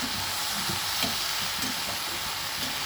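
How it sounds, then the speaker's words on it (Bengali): Flour-coated mixed vegetables and ginger paste being stirred in a frying pan for a fish-head bone curry, a steady close sizzle with soft scraping strokes of the spoon running throughout. "আটাটাকে সমস্ত রকম সবজির সঙ্গে ভালো করে মিশিয়ে দিচ্ছি।"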